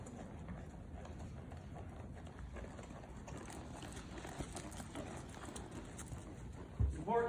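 Hooves of a ridden horse clip-clop in a steady gait during a riding training session, faint and rhythmic under continuous background noise, with a louder thump near the end.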